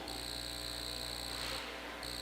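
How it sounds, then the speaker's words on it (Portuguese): A cricket chirps in a continuous high, shrill trill, steady and fairly close, with a brief dip in the pattern near the end against a quiet background. "Estou ouvindo um grilo aqui."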